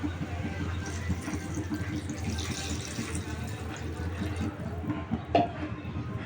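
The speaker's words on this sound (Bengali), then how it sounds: "এখানে আমি অ্যাড করব জল" Water poured into a pan of potato curry with spices being cooked for a spicy boal fish dish with potatoes and stalks, a steady wash of liquid pouring and sizzling throughout, with a brief splash near the end.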